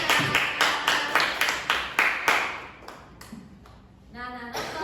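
Students in a classroom clap together in a quick, steady rhythmic pattern of sharp, loud bursts, then the clapping stops and a voice speaks briefly.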